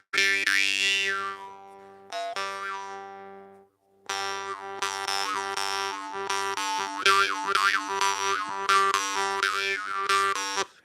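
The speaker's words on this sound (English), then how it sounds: "Start off by playing this mun harp here." A mun-style jaw harp of Norwegian design made by Babayev plays solo, twanging rhythmic notes with a rolling, resonant buzz and brief pauses between phrases.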